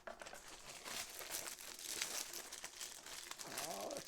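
Plastic packaging from a post-Christmas tool haul crinkles and tears as it is pulled open by hand, close and continuous rustling with sharp crackles, and a brief voice at the end.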